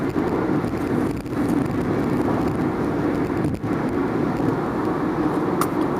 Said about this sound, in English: I'm driving to work.